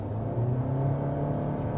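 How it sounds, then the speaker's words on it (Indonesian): A Toyota Yaris Cross hybrid engine and CVT roar under kick-down, giving a steady, moderately loud droning hum with a held tone that rises slightly and stays constant throughout. "kalian denger raungan mesin dan CVT-nya."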